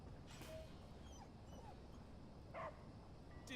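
In the video game Oxenfree II, the dog Athena gives a few faint, distant barks and whimpering yips over a quiet, hissy ambient background.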